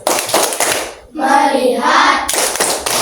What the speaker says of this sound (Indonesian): coba semua tepuk fokus